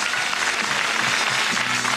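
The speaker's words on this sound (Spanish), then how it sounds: "¡Aplauso también!" Applause from a gala audience, steady and dense throughout, filling the space without any talk on top.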